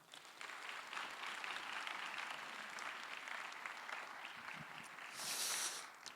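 A seminary chapel congregation claps together to welcome the preacher, a broad, even wash of many hands that holds steady and swells slightly near the end before fading.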